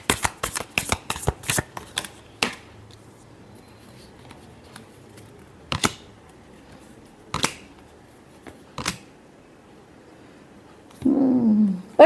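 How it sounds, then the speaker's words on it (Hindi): Tarot cards shuffled in quick riffling bursts for the first two seconds, then a few isolated snaps and flicks spaced apart, ending with a longer rustling shuffle, close and clear with no talk. "Last shuffle."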